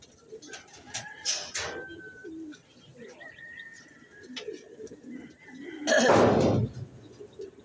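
Pigeons cooing softly at a racing pigeon club, with chirps and a few brief bird calls scattered across the clip and a louder burst of fluttering or movement near the end.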